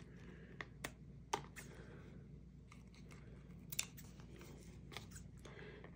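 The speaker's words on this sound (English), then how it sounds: "So let me trim this off a bit here." Scissors trimming paper for a craft tag give a few sharp, quiet snips spaced irregularly over a low room hum, close to the listener, with no talk.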